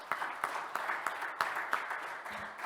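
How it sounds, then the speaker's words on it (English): Sparse applause from a small audience closing a RIPE NCC Days Baltics meeting, a few distinct claps standing out over a soft, moderately faint patter that continues steadily. "A warm round of applause to all of you"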